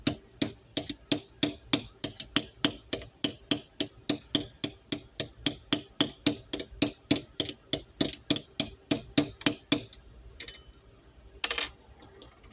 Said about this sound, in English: I'm going to take my special spoon/hammer and just...